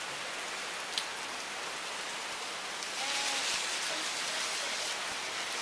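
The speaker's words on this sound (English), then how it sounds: "it is raining hard right now. You can probably hear it." Heavy summer rain in Texas pours down in large drops, a steady dense hiss of downpour on surfaces that swells louder midway and continues without pause.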